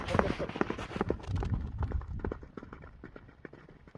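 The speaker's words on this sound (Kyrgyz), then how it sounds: "Ат күлүк экен чындыгындачы." A racing horse gallops past with rapid, drumming hoofbeats, loud and near at first and then fading as it moves away, with faint voices underneath.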